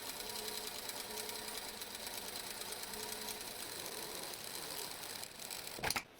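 A sewing machine with a double needle stitches a belt loop, a steady close mechanical whirring rattle that runs continuously, then slows and stops with a brief clunk at the end.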